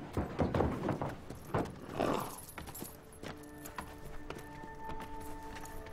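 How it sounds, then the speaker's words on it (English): Several bay horses' hoof clops ring out in the first few seconds, followed by a lingering tonal hum and faint rattles as the hoofbeats fade. "Chico, Jeff, sort these bay horses out, would you?"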